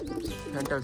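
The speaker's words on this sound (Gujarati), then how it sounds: "અલગ અલગ પંખીઓ બોલે છે ને" Pigeon calls rising and falling in quick succession, close and fairly loud, with a bubbly cooing quality filling the short moment.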